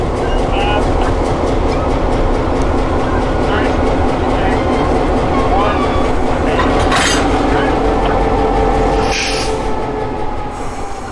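A freight train rolls past at close range with locomotive 4022 dead in tow, heavy rumbling wheels and clattering cars with sharp metallic squeals cutting in near the end, while a voice talks faintly underneath.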